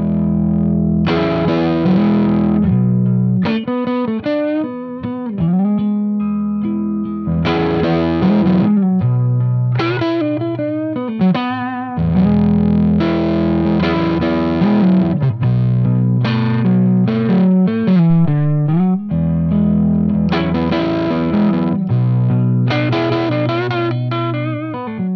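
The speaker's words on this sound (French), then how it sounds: "ça c'est un ampli très coloré qu'on va écouter tout de suite" Springer Neocaster electric guitar played through a strongly coloured amplifier, loud and continuous, with distorted, effects-laden chords and melodic runs filling the whole passage, no voices.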